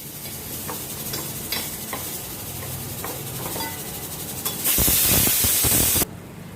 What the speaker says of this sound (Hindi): सूजी को भून के थोड़ा मैं इसका कलर पिंकिश करूंगी